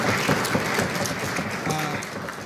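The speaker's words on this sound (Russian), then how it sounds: "Аплодисменты." Crowd applause fills the hall after a knockout win in the second round of an MMA bout, dense and steady throughout with a faint voice briefly audible underneath.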